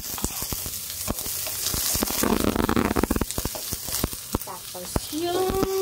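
Onion and garlic fry in coconut oil in a pan, a crackling close sizzle with sharp pops and stirring clatter, and a brief tonal beep near the end.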